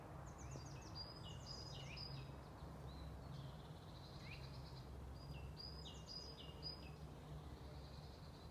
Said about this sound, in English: I definitely heard a lot of different birds